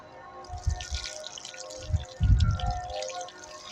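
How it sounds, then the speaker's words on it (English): Gentle splashing and dribbling as water pours onto potted soil, in a few soft bursts with trickling in between, close by. "we're going to water them in very gently"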